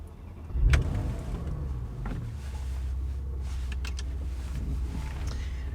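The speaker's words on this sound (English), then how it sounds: "Let's do a bit of driving." Porsche Macan GTS driving, a steady low engine and road rumble running throughout with a louder thump near the start and a few faint clicks and knocks inside the cabin.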